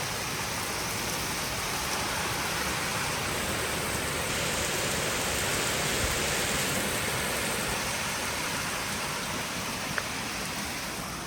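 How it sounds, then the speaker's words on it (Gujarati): Steady, even rainfall hisses all around, a dense continuous wash of drops with no pauses, fairly close and uniform throughout. "જો કેવો વરસાદ આવ્યો."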